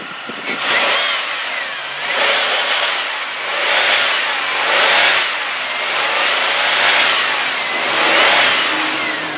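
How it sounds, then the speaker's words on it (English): A 2000 Pontiac Grand Prix GT engine revs repeatedly to its rev limiter, about five loud, close rising-and-falling surges separated by brief idle dips, with no talking. "I did hit the rev limiter, of course, a couple times, but overall, sounds really, really nice. No taps, no knocks, no pings."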